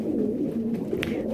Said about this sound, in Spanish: acabo de poner unos palomos viejos y ahí luego están peleando